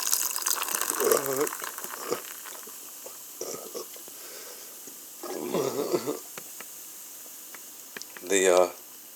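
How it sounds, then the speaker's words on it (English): Blackberry hibiscus carbonated water pours into a mug in short bursts with a fizzy, bubbling trickle, while a voice speaks intermittently between pours. "you pour in the water"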